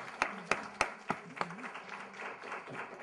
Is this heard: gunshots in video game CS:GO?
no